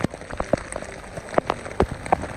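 Heavy monsoon rain in Lonavala, Maharashtra, pattering densely on surfaces nearby, with irregular sharp drops and splashes punctuating a steady hiss, no voices.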